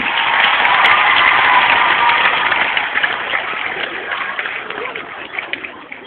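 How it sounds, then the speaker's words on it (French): Audience applause for teachers at a school gathering, a continuous crackling wash of clapping that stays fairly loud, then thins and becomes more scattered toward the end. "on les applaudit aussi"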